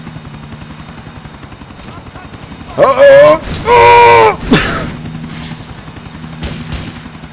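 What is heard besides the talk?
helicopter flying in a video game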